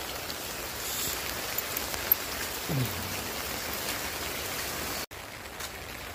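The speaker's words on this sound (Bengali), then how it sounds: "প্রচুর বৃষ্টি হচ্ছে নিম্নচাপের প্রভাবে।" Heavy rain falling steadily during a low-pressure spell over quiet roads and paddy fields, a dense, even hiss of drops on surfaces with a brief dropout near the end.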